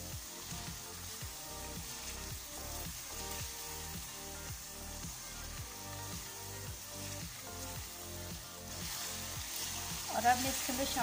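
Masala frying with yogurt in a pan for an aloo baingan curry gives a steady, moderate sizzle with intermittent stirring scrapes, a voice talking over it, and a louder burst near the end.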